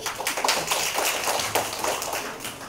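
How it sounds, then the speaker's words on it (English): A round of audience applause in a lecture hall, moderately loud, with distinct individual claps repeating at an uneven rhythm across the whole stretch and no talking over it. "Let's have a round of applause, please."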